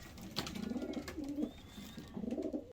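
Racing pigeons in a loft giving soft, repeated throaty coos over a low background, with a faint sharp chirp near the start.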